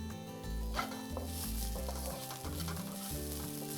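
Garlic frying and sizzling in a pan for spiced green beans, a soft continuous hiss beneath prominent background music with a steady rhythmic bass line, faint overall and no speech.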